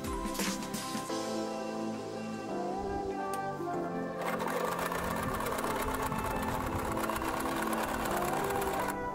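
Domestic sewing machine stitching steadily after its upper thread tension is adjusted, a continuous rapid mechanical whirr and clatter, close and loud, running unbroken throughout with no voices.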